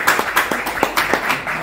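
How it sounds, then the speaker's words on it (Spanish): A small audience at an Extinction Rebellion welcome talk claps briefly, with distinct individual claps standing out in a short, uneven burst. "Un aplauso."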